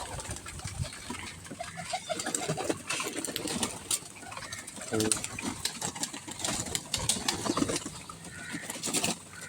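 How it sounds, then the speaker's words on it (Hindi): Pigeons flock in to pick up scattered grain, their soft cooing and scattered wing flutters close by and fairly steady, with occasional bursts of activity and a voice speaking briefly. "बाकी अब सब कबूतर आ गए दाना उठाने के लिए।"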